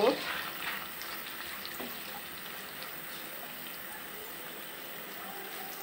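Onions frying in a pan give a steady, fairly quiet sizzle with a soft hiss, a little louder at the very start and then even throughout.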